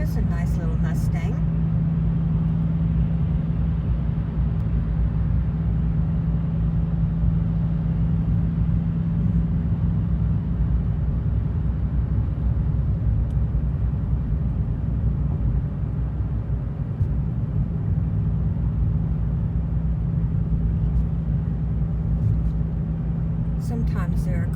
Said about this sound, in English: there's a nice little Mustang.